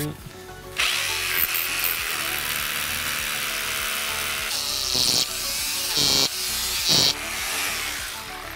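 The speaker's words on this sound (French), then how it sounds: "on perce le bois, on perce le béton" A power drill whines steadily, boring through wood and then concrete, with brief surges and pauses in its pitch as it bites in close by.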